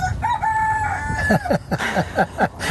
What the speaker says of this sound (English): we have the chickens and roosters